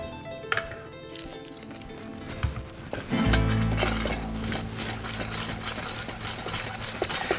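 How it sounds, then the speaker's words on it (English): Milk being whisked into eggs in a bowl for a Drunken Cake batter, clinking utensil strokes against the dish with a steady low hum behind, close and moderately loud. "Until I get about half of the milk mixed in with the eggs."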